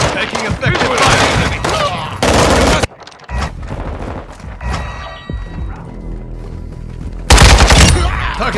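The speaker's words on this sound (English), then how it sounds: "Enemy personnel taking effective fire." Rapid automatic gunfire from the Call of Duty video game comes in loud, dense bursts at the start and again near the end, with quieter in-game sounds in between.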